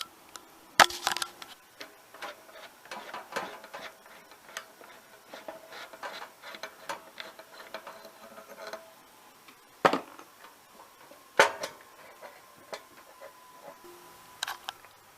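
Bolts come off the carburetor of a Snapper NXT 25-48 riding mower in a series of close, sharp metallic ticks and clicks of a hand tool, with a few louder clanks scattered irregularly.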